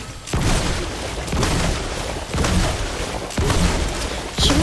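Cannon blasts in Fortnite: four heavy booming explosions, each a sharp loud burst that decays into a rumbling tail, spaced about a second apart.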